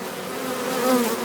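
Agitated honey bees buzz close by around a caged new queen, a dense, steady drone that swells slightly toward the end.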